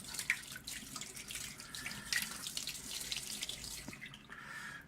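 Water from a tap streams and splashes over a SkyWatcher 300P 12-inch Flextube Dobsonian telescope mirror as it is rinsed, a continuous nearby running-water wash with uneven spattering, no voices.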